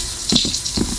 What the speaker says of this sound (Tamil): turn off water.